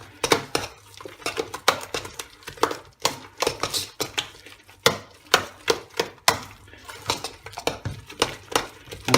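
Sour cream marinade stirred right in a metal cooking pot, giving a brisk series of sharp clinks and scrapes as the utensil knocks against the sides, fairly close and irregular in rhythm.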